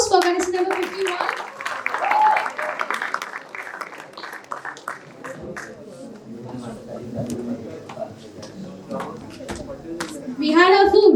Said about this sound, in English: Huge round of applause for contestant number 51